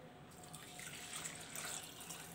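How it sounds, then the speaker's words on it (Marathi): Hot water is poured into soaked basmati rice, a steady splashing, gurgling stream close by that runs for a couple of seconds at a low level, with no voices. "आता मी इथे तांदळामध्ये हे गरम पाणी घालणार आहे."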